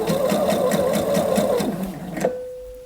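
A domestic sewing machine stitches binding around a garment neckline in a fast, steady whirring run close by, stopping abruptly near the end.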